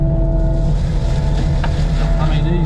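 A new mulcher running at about 2200 RPM gives a loud, steady engine drone with a low rumble and a faint whine, continuous and close throughout.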